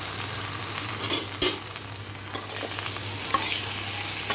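Vegetables sizzle and fry in coconut oil in a pan, with steady crackling and occasional stirring scrapes and knocks from a spoon, close and continuous with no talk.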